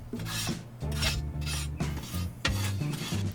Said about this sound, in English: I'm going to go ahead and give this one more scrape down now that it's been running on high for 20 minutes.